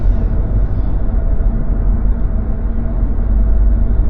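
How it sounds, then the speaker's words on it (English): Steady, loud low road rumble fills the cabin of a moving car on John R Road in Michigan, a constant engine and tire drone with no talking. "You'd be hearing less of the road or anything outside of the car."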